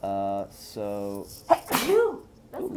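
During a tabletop role-playing session, a sudden, close sneeze cuts in right after someone speaks, followed by more talking.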